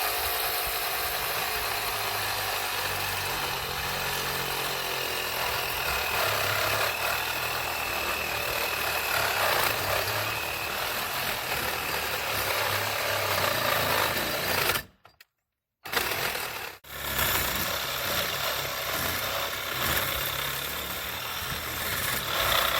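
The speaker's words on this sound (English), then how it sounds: "I have a Sawzall with a metal bit, and I'm gonna get started." A Sawzall fitted with a metal-cutting blade saws through the rear fender of a 1995 Ducati Monster, giving a steady, buzzing reciprocating rasp that stops briefly twice before carrying on.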